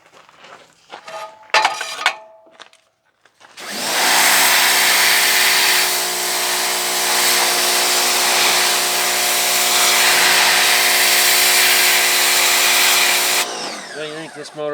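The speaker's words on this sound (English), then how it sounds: "I'm starting to pressure wash the thing. Getting all this grease that'll come off of here." A pressure washer blasts grease off a 1959 Mack B73 engine, a loud continuous hissing roar with a steady motor hum that starts abruptly after a few seconds of quieter activity and runs unbroken until it cuts near the end.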